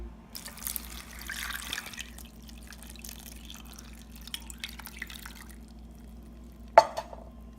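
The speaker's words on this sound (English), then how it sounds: "Now we're just going to add enough water to cover" Water is poured into a pot holding halved tomatoes and chilies, a quiet splashing and trickling with faint drips that closes on one sharper splash or knock.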